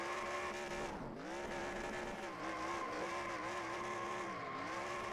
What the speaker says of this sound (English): Doing his burnouts now.